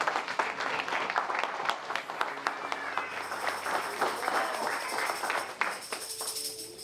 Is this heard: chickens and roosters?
no